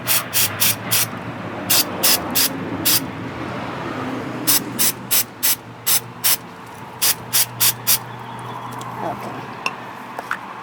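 Throttle body cleaner sprayed onto a Honda Accord oxygen sensor in short, hissing bursts, fired in quick clusters of three to five with pauses between, close and fairly loud over a low background hum.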